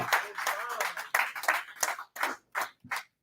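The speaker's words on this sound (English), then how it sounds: "A round of applause for them real quick" A few people clapping in a convention hall, loose uneven claps in irregular bursts that thin out toward the end, with a voice speaking in between.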